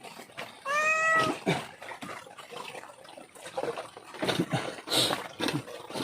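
Kittens meow repeatedly, several short high cries close by, with some rustling and faint background noise between them.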